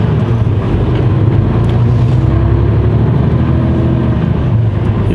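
A car driving off and accelerating, a loud, steady low engine drone heard close from inside, continuous throughout with no voices.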